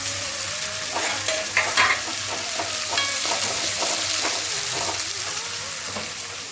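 Tomatoes, curry leaves and coriander sizzling in a pan over softened onions for a green pea kurma, with steady frying hiss and scraping stirs, close and unaccompanied.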